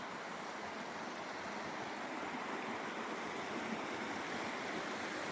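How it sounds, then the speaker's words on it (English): Gable Beck, a Lake District mountain stream with small waterfalls, rushes in a steady, even broadband roar, moderately distant and unchanging, with no voices. "Gable Beck, it bends around, there's a few waterfalls up that"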